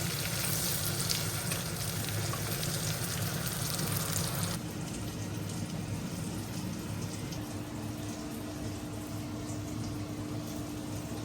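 Eggplant slices fry in plenty of mustard oil, a continuous bubbling sizzle heard up close that drops slightly in intensity partway through but never stops.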